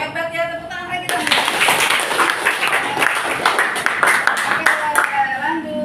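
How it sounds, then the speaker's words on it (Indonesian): An Indonesian classroom breaks into a burst of clapping, many hands applauding together for several seconds with children's voices mixed in and a teacher talking at the start and end. "Hebat ya, tepuk tangan lagi dong."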